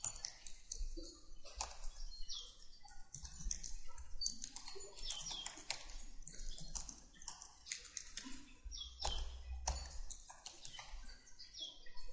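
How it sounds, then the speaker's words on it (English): Rapid, uneven clicking of a computer keyboard as a short message is typed, close by and steady throughout, with a brief pause near the middle and no talking. "let me just type out a quick message here"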